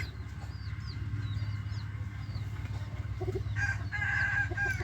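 Brahma Cochin chickens, a feather-legged round breed, call nearby with short warbling crow-like cries and clucks, growing busier and louder toward the end over a steady low background hum.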